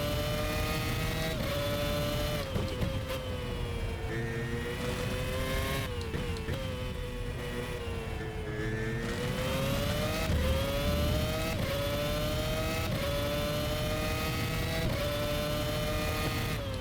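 A race car engine in the rFactor sim, droning steadily through a lap with rising and falling revs, gear changes marked by brief pitch drops and dips, loud and continuous with no talk.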